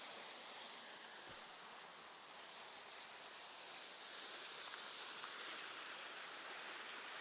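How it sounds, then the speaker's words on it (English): A waterfall spills into a pond at Byukchoji Gardens, a steady faint broadband rush of falling water heard from a distance with no voices over it. "The waterfall is beautiful,"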